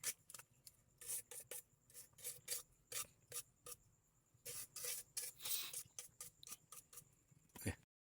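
Leftover adhesive is scraped off the frame of a water-damaged Vivo Y02s phone during an LCD replacement, giving a quick series of close, faint raspy scraping strokes with short pauses between them.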